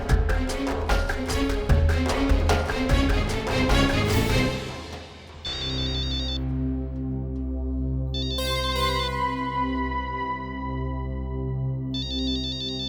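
A mobile phone ringtone plays in a hospital, starting as a busy, rhythmic melodic tune and then shifting into repeated electronic chirping phrases over sustained tones, loud and close with no talking.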